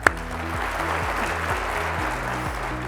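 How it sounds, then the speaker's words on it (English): An education conference audience claps in a steady, continuous burst under a low droning hum, with one sharp tap at the very start and no voices over it. "give yourselves a round of applause for that"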